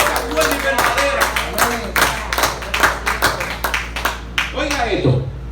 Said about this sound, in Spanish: Denle un aplauso a Cristo, denle un aplauso a Cristo.